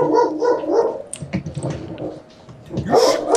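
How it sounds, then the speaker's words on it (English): A dog barks repeatedly close by in short, rough bursts, with growly whimpering between barks and a pause before a final loud outburst. "You shut that dog up!"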